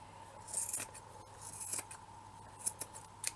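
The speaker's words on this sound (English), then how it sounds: "I'm just going to trim off those bulky bits." Scissors cut bulky bits off fabric for a shabby-chic wall plaque, a run of crisp close snips and rasping blade strokes with no talking.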